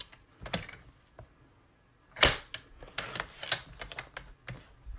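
Paper trimmer blade slicing through cardstock for card making, a series of sharp, brief cutting strokes, one louder swipe standing out, close and alone without talk.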